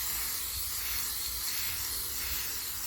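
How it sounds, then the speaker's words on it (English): A can of gold upcycling spray paint sprays in one steady, continuous hiss, close and fairly loud, with no break and no talk. "we've got some upcycling gold spray. I gave it a good shake, so a light dusting will do the job."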